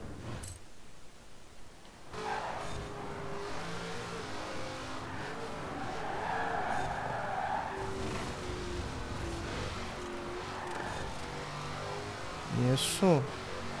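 Car racing in Forza Horizon 4, a steady engine drone under play, ending in a short, loud burst of tire squeal from a skid near the end; a voice talks over parts of it.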